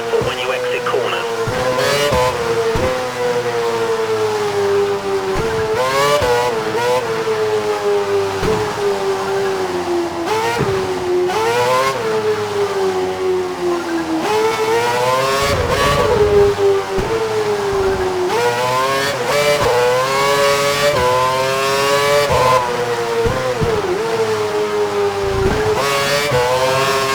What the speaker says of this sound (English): I want you to drive the last sector of the lap and hit every apex.